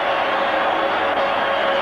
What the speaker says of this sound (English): Crowd is yelling for a penalty